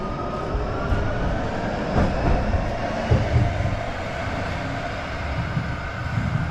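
A light rail train in winter Calgary rumbles along with a broad, steady roar and occasional clanks, close and continuous, with no one speaking.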